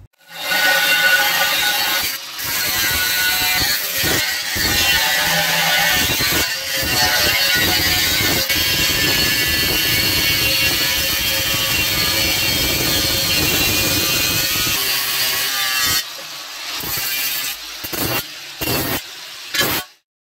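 A saw cutting through a 125 mm cast iron SME drain pipe in a cellar: a loud, continuous rasping grind for about fifteen seconds, then a few short broken strokes before it stops.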